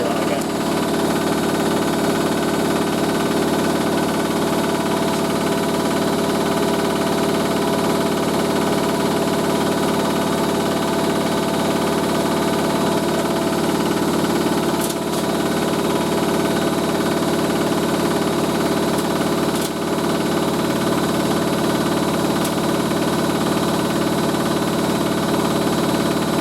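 A Hoover A3060 Electronic 1100 washing machine motor runs steadily in a shed, a constant loud hum with a slight vibrating drone that holds unchanged throughout with no talk.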